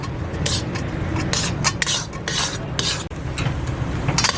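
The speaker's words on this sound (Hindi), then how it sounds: "8 से 10 मिनट हम इसको ऐसे ही चमचा हिलाते रहे हैं।" A spoon stirring halwa in a pan over a low flame, repeated scraping strokes with light metallic clinks and a soft sizzle underneath, close and continuous.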